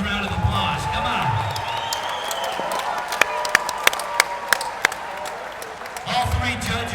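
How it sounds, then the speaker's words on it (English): A crowd at a caged fight event claps for a fighter, a thin scatter of distinct claps rising under an amplified announcer's voice, with talk at the start and end. "let's give him a big round of applause"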